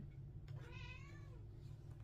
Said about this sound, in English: My cat is making noises.